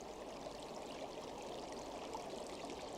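Steady flowing river water as it widens and slows at the foot of a mountain beside a jungle, a continuous even rush and gurgle heard alone at moderate level.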